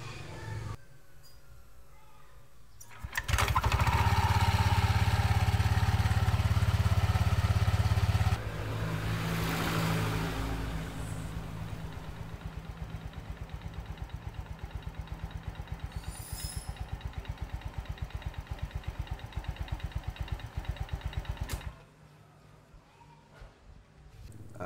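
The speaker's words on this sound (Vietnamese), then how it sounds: "các bạn sẽ để cho máy nổ khởi động này" A Honda Air Blade scooter engine, under repair for a throttle-sticking fault, starts with a loud burst and then settles into a steady, close, rhythmic idle for much of the clip before cutting off near the end.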